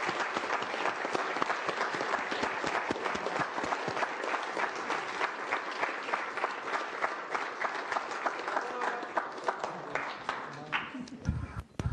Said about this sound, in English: Let's all applaud their work up there.